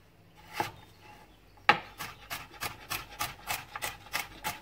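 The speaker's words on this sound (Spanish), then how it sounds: "Vamos a cortar la zanahoria también en cuadraditos chiquititos." A knife dices carrot into small cubes on a wooden board, giving a steady run of crisp, close chopping strokes about three per second after a couple of isolated cuts.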